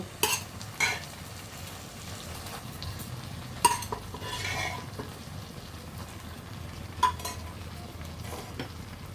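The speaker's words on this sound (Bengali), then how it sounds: "এখন আমি কচু সিদ্ধ করা কচুটা ঢেলে দিব" Boiled taro poured into a pan for a taro-and-fish dish, giving a soft stirring and frying hiss with a few sharp clinks of utensils against the pan, moderately quiet and steady.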